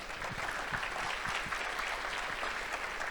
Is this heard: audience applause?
yes